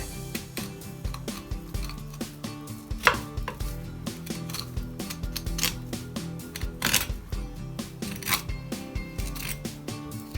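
A kitchen knife working through a tilefish (amadai) being filleted, with quick repeated crisp cuts and scraping taps on a cutting board, close and continuous, no voices.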